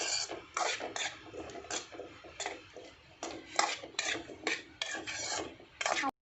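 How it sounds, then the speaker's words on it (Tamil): Tamarind sautéed with onion and tomato in a pan for onion chutney, heard as repeated rasping scrapes of a spatula against the pan, close and steady, with no talk. "இப்போ இந்த ஸ்டேஜில் நம்ம எடுத்து வச்சுருக்க இந்த புளியையும் போட்டு ஒரு டைம் சும்மா வதக்கிக்கலாம்."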